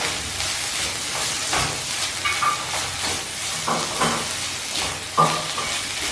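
Okra masala with ginger and garlic sizzles steadily in a hot pan while a spoon stirs it, giving a constant hiss with occasional scraping clinks and brief bursts of louder frying.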